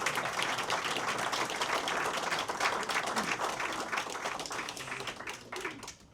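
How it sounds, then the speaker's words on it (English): An audience at a wealth-advisory event applauds the Boston Global Wealth advisors with a full, steady round of clapping that holds for several seconds and then tapers off at the end. "Please give them a round of applause."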